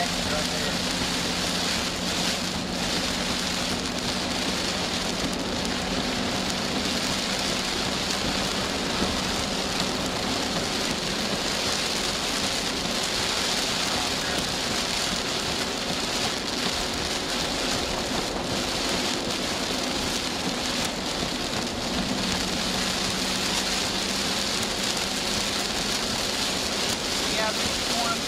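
Heavy rain pours down during a severe storm in western Oklahoma, a dense, steady roar of drops that stays loud and unbroken throughout.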